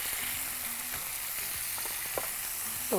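Tomato and green chilli sautéing in a pan, a steady close sizzle with light stirring scrapes throughout, a brief clink of utensil near the end.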